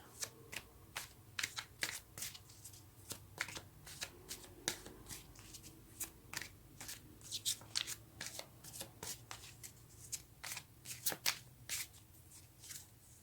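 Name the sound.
shuffling tarot cards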